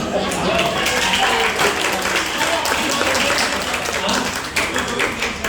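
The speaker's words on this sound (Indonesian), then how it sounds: "masih tepuk tangan." Steady, dense applause from a seminar audience at a coaching event, continuous clapping that keeps going throughout with murmured voices mixed in.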